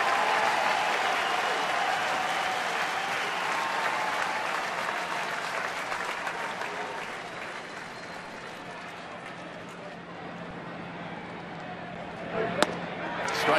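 A baseball stadium crowd during an Angels at Detroit game cheers and applauds in a dense, continuous roar that eases slightly mid-way, then rises again, with a sharp crack near the end.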